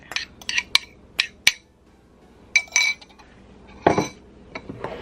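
A utensil clinks and taps against a bowl while egg and vanilla are stirred into mashed banana for a banana cake, a sparse series of sharp, close clinks with quiet gaps between them.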